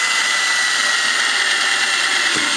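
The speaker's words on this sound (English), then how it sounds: "Go ahead and drill it. These are just made of delrin, so it should drill very nicely" A power drill boring through a Delrin plastic part for a full-size Wall-E tread assembly, giving a steady, loud whirring drone with a brief dip near the end.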